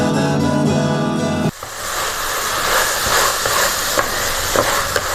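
Tomatoes frying in a pan for a Kerala-style koottu curry, a loud close sizzle with a few scraping stirs, following a short sustained tonal sound that cuts off abruptly.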